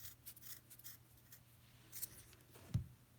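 Scissors snipping thread for a tassel on a tassel maker, a few faint close snips and rustles over quiet room noise, with one sharper cut near the end.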